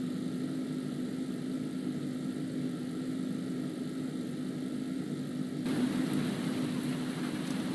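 Engine of the Deadbolt, a vehicle in a video game, droning steadily at a constant pitch while driving toward its top speed, with a slight rise in texture near the end.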